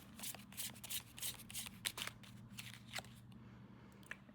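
Tarot cards being drawn and shuffled from a deck, soft quick riffles and papery flicks in bursts, quiet and close, ending in near silence.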